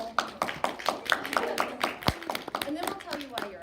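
An audience claps to welcome a speaker at a college Women's History Month event, a fairly near run of quick, even handclaps with a voice talking over them.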